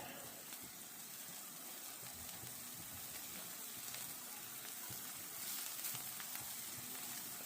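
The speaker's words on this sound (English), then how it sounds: "I'm going to put some of this pepper jack cheese right in here" Pepper jack cheese sizzles in a heated pan on a flame: a faint, steady frying hiss that carries through the whole stretch with no talking.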